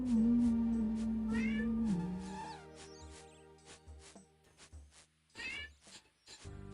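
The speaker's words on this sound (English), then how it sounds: "you guys can hear the cat meowing?" A cat meows repeatedly in Old School RuneScape, the calls rising and falling with a brief caterwaul, fairly close and alone against faint background tones.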